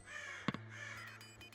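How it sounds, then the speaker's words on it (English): Crows caw in a winter scene from the medieval village-building game Going Medieval, a couple of sharp close calls in quick succession over a soft ambient background. "Winter is defined by birds going caw, caw, caw, caw, caw."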